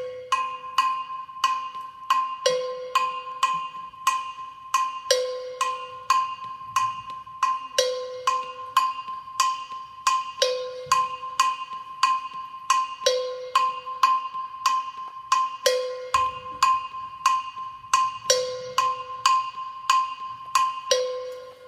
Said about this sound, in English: This is the bell pattern, the Gankogui bell pattern.